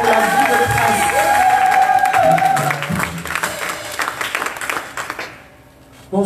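A church congregation claps and cheers loudly and steadily in a big enthusiastic wave that fades out near the end.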